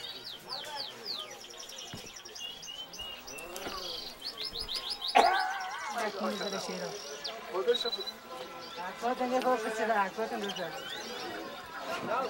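Many birds chirp and tweet in a dense, overlapping chorus at a bird bazaar, with coos and chatter mixed in and people talking in the background.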